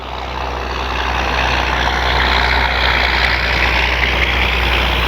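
An E-flite Piper Cherokee RC plane's electric motor and propeller buzz at about quarter throttle in a steady, fairly loud drone that swells slightly as the model passes.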